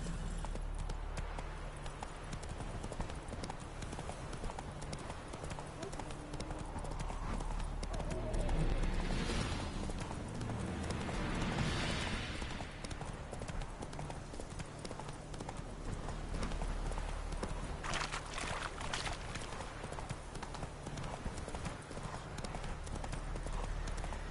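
Hoofbeats of Geralt's horse pound in a fast, steady clip-clop gallop in The Witcher 3, loud and continuous over game ambience and music.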